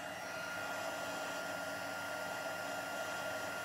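A heat gun blows hot air to melt embossing powder on a small, fine stamped sentiment, giving a steady, even, close whooshing whir that holds without a break and has no talking over it.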